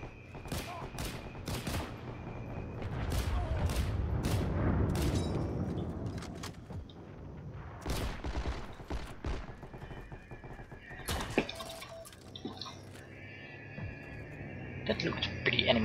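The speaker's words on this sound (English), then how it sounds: "Getting shot at from everywhere." Gunfire in the World War II shooter Heroes & Generals: sharp rifle and machine-gun shots crack near and far in irregular bursts over rumbling battlefield noise, with some scattered shots later on. The shooting is moderately quiet overall.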